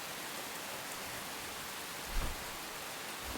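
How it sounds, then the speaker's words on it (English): A heavy downpour of video-game rain hisses steadily and broadly, with a soft low thump partway through and no talk. "This rain is definitely a lot heavier than it was before though"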